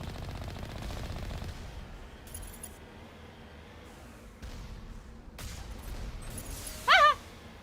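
Gunfire in the Mass Effect video game, with short bursts and sharp electronic zaps over a steady low game ambience, ending in a brief loud warbling effect.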